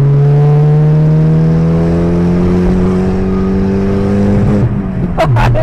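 A Mitsubishi Galant VR4 engine, fitted with a new downpipe and muffler, pulls hard under part throttle from inside the car, droning steadily as revs climb, then abruptly stutters against fuel cut with a few sharp cracks.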